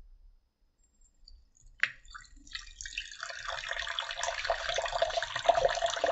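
Water pours from a Perfect Pour bottle, inner and outer chambers flowing at once, starting as a brief splash and building into a steady, close trickling stream that grows slightly louder toward the end, with no talking.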